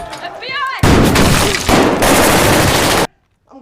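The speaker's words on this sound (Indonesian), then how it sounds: "dikejutkan dengan tembakan" A dense burst of rapid gunfire erupts after a brief moment of quieter sound, sustained loud shots for about two seconds, then cuts abruptly to near silence.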